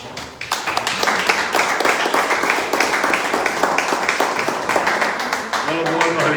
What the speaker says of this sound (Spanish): No lo podemos evitar, tenemos que aplaudir.